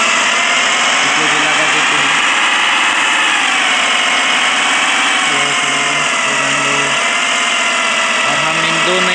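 Steady tractor engine drone from Farming Simulator 18, a continuous mid-to-high hum holding at one level with slight pitch wavering, loud and alone throughout.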